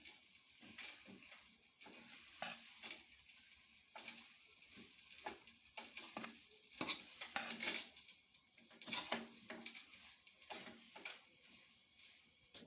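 A spoon stirs panjiri ingredients in a medium bowl, giving faint, intermittent scrapes and light clinks against the bowl in uneven bursts, with no one talking.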